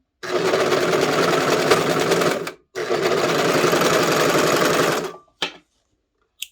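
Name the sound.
serger stitching a skirt's center back seam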